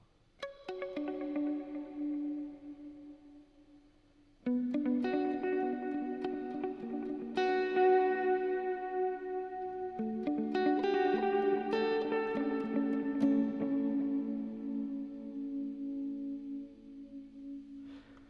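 A theremin plays slow, sustained, gliding tones through a Chase Bliss CXM Hall reverb after a Mercury X delay, the notes swelling and overlapping with long, shimmering tails that fill the quiet space.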